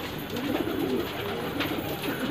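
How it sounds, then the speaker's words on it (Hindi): Pigeons coo softly and repeatedly at close range, a low rolling murmur over steady outdoor background noise. "ये रहे कबूतर"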